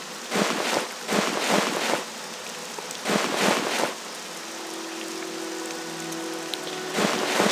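Rain falls steadily in the Morrowind game world, a continuous hiss of drops on surfaces heard alone, with several louder bursts of heavier patter and a faint low tone running underneath.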